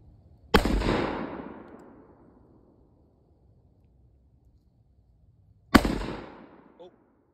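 Two sharp gunshots at a neighbor's shooting range target, each a loud crack followed by a long decaying echo rolling off over a second or more, spaced about five seconds apart in otherwise quiet outdoor air.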